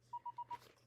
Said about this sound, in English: that's my phone saying it's gonna rain